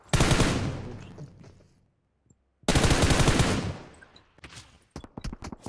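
Automatic gunfire in the PUBG Mobile video game on the Livik map, two long loud bursts of rapid shots separated by a brief silence, followed by scattered shorter shots, close and sharp, with no talking.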